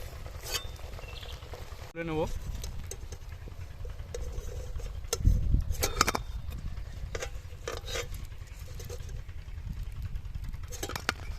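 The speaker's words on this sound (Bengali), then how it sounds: "বাকি যে কটা আছে ভেজে নেবো এক এক করে" Potato chops bubble and sizzle in hot oil in a wok, a soft steady crackle close by, broken by a few brief clinks and handling noises partway through.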